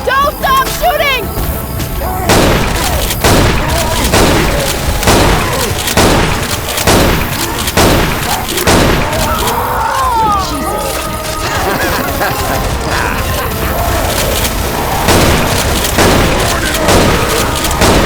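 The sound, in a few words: gunfire in the video game Left 4 Dead 2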